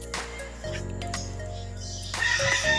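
Chicks chirp and cluck steadily close by as they are set down on the ground, with a faint background hum and a brief louder rustle near the end.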